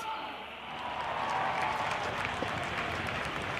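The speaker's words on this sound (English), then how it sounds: "can I hear a huge round of applause?" Crowd at the Indian Air Force air show on Marina Beach, Chennai, breaks into sustained applause that swells after a brief lull, a dense outdoor wash of clapping mixed with faint voices.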